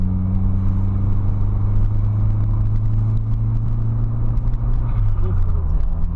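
A BMW E36 318is with a small diesel turbo idles and revs in a steady, loud engine drone with strong low rumble and a faint whir on top, heard close up throughout.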